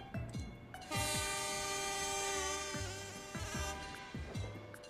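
A loud, sustained train horn blares for several seconds over rumbling and rhythmic clatter of rolling wheels, then the clattering continues.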